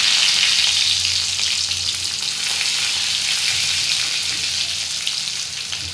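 Garlic fries in hot oil with cumin in a home kitchen pan, a loud, continuous bright sizzle that crackles steadily and fades slightly near the end, with no talking.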